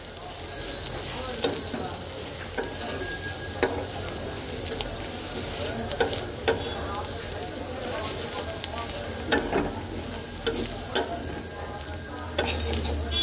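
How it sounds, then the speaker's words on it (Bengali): Onions sizzle in a pan with turmeric and coriander powder while a spoon scrapes and stirs in repeated strokes, a steady close frying hiss throughout with occasional louder clatters. "তো এটাকে 2-1 মিনিট আমি একটু ভাজা ভাজা করব।"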